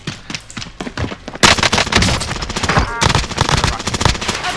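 Gunfire in the shooter Call of Duty Modern Warfare: softer rapid shots at first, then a loud burst of close automatic fire that keeps rattling densely to the end with no clear talk.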